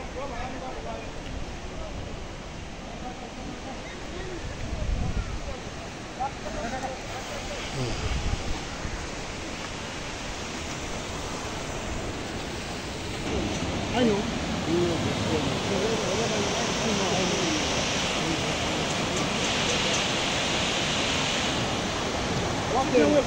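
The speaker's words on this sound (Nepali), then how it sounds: "त्रिशुली नदी" The Trishuli river in Nepal flowing: a broad, steady rushing roar heard from nearby, growing slightly louder toward the end, with people talking over it at times.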